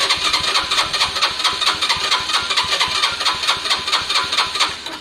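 A Lexmoto Valiant motorbike being cranked with no choke, a steady rapid chugging of the starter and engine turning over continuously at close range, loud and unbroken with no talk.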